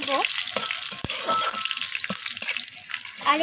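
Whole spices and bay leaf tempering in hot oil give a steady, close sizzle with a few stirring scrapes, while a voice murmurs faintly at moments underneath.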